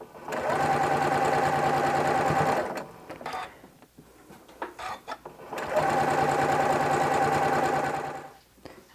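A sewing machine stitches a jelly roll quilt seam in two steady, fast-running bursts, with a pause of small handling clicks and fabric shuffling between them, close and loud.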